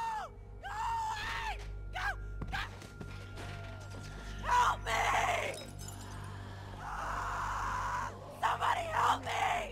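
A woman screams for help in Telltale's The Walking Dead video game, Season 1 Episode 3, with repeated piercing cries alongside crashing, breaking noises over steady low game ambience.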